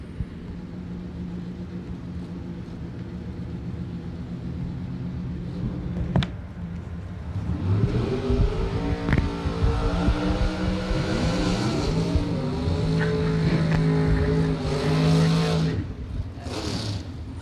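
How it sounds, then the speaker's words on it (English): A drag racing car at a bracket racing event does a burnout, its engine revving and climbing in rising sweeps and building to a loud, sustained screaming roar before easing off. "That's a nice burnout."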